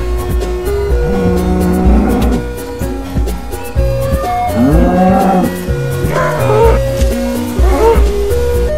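Cow mooing in the Minecraft video game, several drawn-out game-style moos rising and falling over a busy, loud mix of game sounds and background noise.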